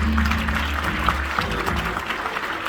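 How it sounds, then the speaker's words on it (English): A crowd claps steadily, a dense patter of applause from many hands with a low hum underneath, close and sustained. "Give all these volunteers a big round of applause."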